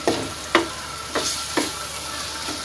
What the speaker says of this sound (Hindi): ये चिकन भून गई 5 से 10 मिनट, मैंने कहा था 10 से 15 मिनट या 10 मिनट तक कम से कम इसको हमने उसी तेल में फ्राई कर लिया